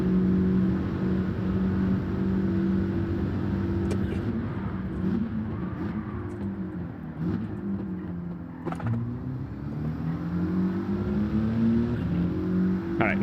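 A Nissan GT-R in the racing game Gran Turismo 7 drones steadily with a mid-pitched engine hum that rises and dips through gear changes, with a few sharp clicks along the way.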